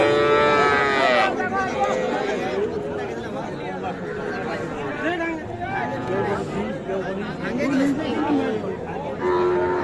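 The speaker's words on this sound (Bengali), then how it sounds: "ছোট ছোট বাছুর।" Small calves and cattle moo repeatedly at a busy cattle market, their calls close and loud amid constant crowd chatter and people talking.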